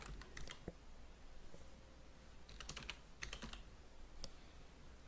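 A search term is typed on a computer keyboard, quiet irregular clusters of key clicks in short bursts close to the microphone, with no talking.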